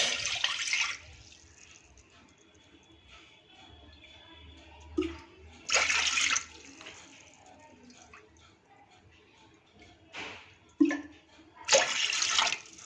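Water splashes and pours into a pot in several separate bursts, three bowlfuls measured out, with quiet pauses and a few clinks between pours.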